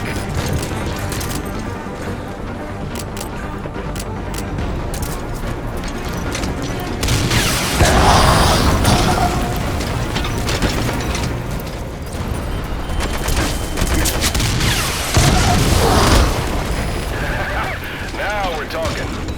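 Honeybee rocket launcher fired in Metal Gear Solid V, heavy booms and blasts layered in a loud, busy game battle mix with swells of explosive noise and talk over it.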